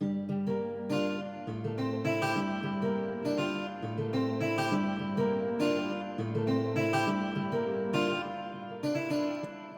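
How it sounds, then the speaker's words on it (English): An Afrobeats-style beat built in FL Studio with a Fruity Chorus effect added, a dense loop of layered melodic synths over steady repeating drum hits, loud and continuous throughout with no voices. "I added the fruity chorus next, and it sounds like this."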